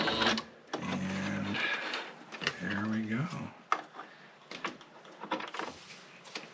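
A sewing machine closing off a stitch runs in two short motor bursts, the second slower and more controlled, with a person talking between and after the runs.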